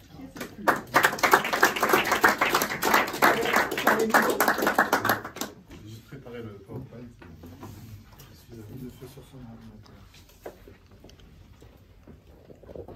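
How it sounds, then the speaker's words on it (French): Audience applause greets a speaker being introduced at a public debate on the future of Palexpo, a dense burst of many clapping hands lasting about five seconds, then fading into softer scattered sounds and quiet talk. "c'est David Rui Gonçalves, sous applaudissement"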